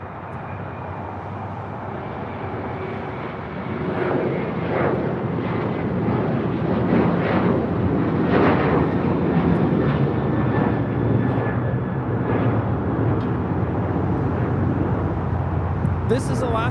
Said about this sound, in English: This is Alaska Airlines 1418 taking off to Guadalajara, a 737-900ER